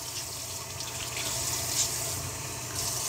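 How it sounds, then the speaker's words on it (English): Filtered tap water runs steadily over a houseplant at a sink, a continuous close hiss and splash lasting the whole stretch without speech. "So I'll just run this some water under here a couple of times."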